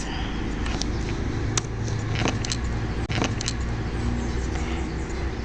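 Scattered keystrokes on a computer keyboard as a command is entered, a handful of sharp clicks at uneven intervals over a steady broadband background hiss and low hum, with no talking.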